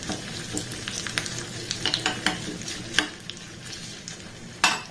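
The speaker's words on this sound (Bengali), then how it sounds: "খুব ভাজার দরকার নেই, একটু এইভাবে নাড়াচাড়া করে ভেজে নিলেই হবে।" Curry leaves with a dried red chilli and a green chilli sizzle steadily in hot oil in a pan, broken by scraping stirs and a sharper clatter near the end; no voices.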